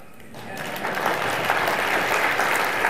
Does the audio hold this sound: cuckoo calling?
no